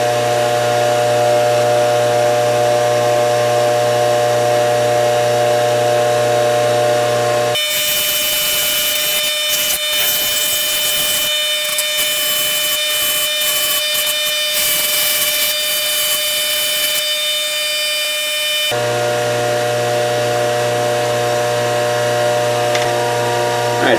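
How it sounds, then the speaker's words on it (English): A cotton buffing wheel on a motor-driven buffer polishes a metal part from a refurbished Gerstner tool chest, giving a steady loud whirring hum with a harsher grinding rasp in the middle stretch of contact. "Usually the cotton wheel on the final buff will take out some fine scratches around the edges."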